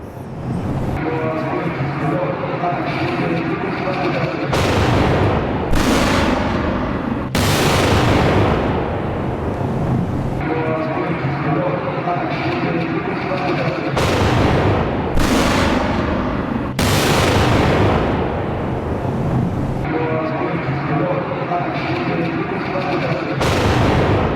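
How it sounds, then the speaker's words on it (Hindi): Loud, sustained blasts and gunfire roar continuously from a suicide attack in Quetta, with several sharp explosive bursts cutting in, heavy and rumbling throughout. "इस धमाके के बारे में कहा जा रहा है कि आत्मघाती हमला है।"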